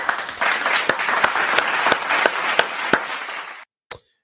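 An audience claps loudly and steadily for about three and a half seconds, with a few sharper individual claps standing out, before the applause cuts off into near silence broken by one final clap.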